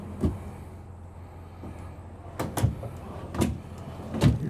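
A few sliding, rolling thumps of wardrobe drawers on full-extension glides in a Renegade Verona 36VSB, each a quick glide ending in a soft knock, spaced a second or so apart, close by and fairly quiet with no talk.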